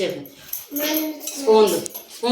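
Metal spoons clatter and clink against each other and dishes up close, a few jangling bursts amid nearby voices.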